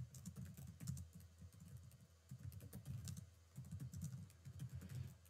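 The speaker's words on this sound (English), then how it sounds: "I'll just type it in." Keys clatter in quick bursts on a computer keyboard as a search term is typed, a soft, fairly close patter in three or four runs separated by short pauses, with no talk.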